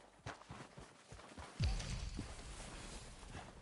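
In Red Dead Redemption 2, horses' hooves clip-clop in irregular close thuds. A heavier thump lands partway through, followed by a rumbling wash of movement, with no talking.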